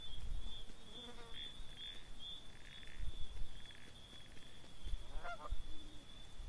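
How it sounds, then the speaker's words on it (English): Geese in the video game RuneScape give several short nasal honks in scattered bursts near Lumbridge, faint against a steady high-pitched tone and low background rumble. "I hear... Geese."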